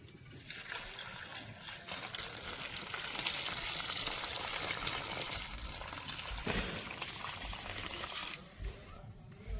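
More water poured into a container during washing with soapnut (reetha) suds, a steady close rushing pour and splash lasting several seconds before easing off, with faint talk in the background.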